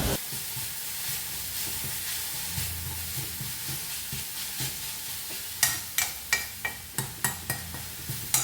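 Spinach thoran (cheera) is stirred in a pan while it fries softly. A gentle sizzle runs under the stirring, then a quick run of sharp spoon scrapes and clacks against the pan comes near the end.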